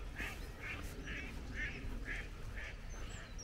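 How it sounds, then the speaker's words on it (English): Ducks quack in a steady series of about seven calls beside a river at sunrise, moderately close, over a constant low outdoor rumble of water and background noise. "ducks."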